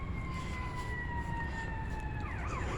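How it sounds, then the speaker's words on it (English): Emergency vehicle sirens wail through a neighborhood near a cemetery, two steady tones sliding slowly downward, then overlapping, warbling tones near the end, moderately far off above a constant background rumble. "Sorry about the sirens"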